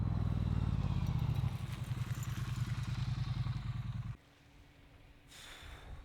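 Triumph Street Twin motorcycle riding on the road, a steady throbbing engine drone close up that drops abruptly to a quieter rumble, with no talk.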